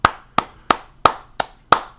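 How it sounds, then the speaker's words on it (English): Six sharp hand claps, evenly spaced at a steady slow rhythm, loud and close in a quiet room, each crack decaying quickly before the next. "Notice I'm still clapping."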